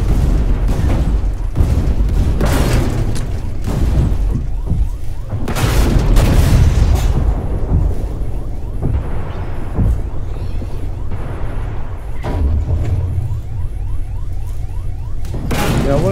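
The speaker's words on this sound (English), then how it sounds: "I'm the only tank left, and I'm getting shot at from all over the place." In a tank video game featuring the Vickers MK7 main battle tank, heavy booms and explosions strike repeatedly amid a dense, loud rumble of gunfire and engine noise, with bursts coming every few seconds.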